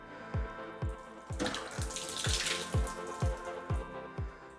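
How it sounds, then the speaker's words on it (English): Water drips steadily from shower pipes while an old shower cartridge is pulled out during a leaking-shower repair: about nine evenly spaced, resonant drops plink close by, with a brief splashy trickle in the middle. "don't be worried if you get a little bit of water coming out, there is still gonna be some in the pipes there"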